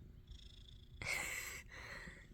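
A cat purring softly and steadily up close, its low rumble swelling louder for a moment before settling back to a gentle, continuous purr.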